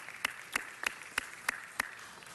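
At a city council meeting, an audience gives a small round of applause for a student. About six separate claps land at a steady pace, faint and thin, as though only a few people are clapping at a distance.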